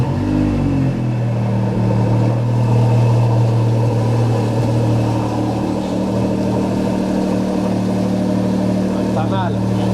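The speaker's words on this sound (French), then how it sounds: "c'est ce qu'on appelle le cold start. En fait, elle est un peu froide, donc c'est pour ça que c'est assez bruyant" A loud, steady cold-start engine roar from a 630 hp supercar at high idle, a deep continuous rumble that holds throughout.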